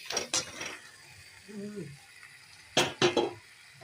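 Chicken being stirred in a pot for a biryani, with scraping, rattling metal strokes of a spoon against the pot in a couple of short bursts separated by a quieter gap.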